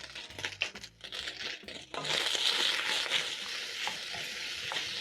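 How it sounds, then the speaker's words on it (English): Onions sautéing alongside searing mutton, with scraping and stirring at first, then a loud, steady sizzle that fills the rest, close and continuous; no talking. "I'm going to saute together with the meat as it's searing"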